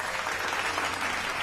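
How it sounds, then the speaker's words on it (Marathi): Audience at a Marathi devotional discourse on the Garud Puran gives a sustained burst of applause, even and continuous throughout, a broad wash of many hands heard at moderate distance. "एकदा खरंच टाळ्या वाजून त्यांचं कौतुक करायला काही हरकत नाही."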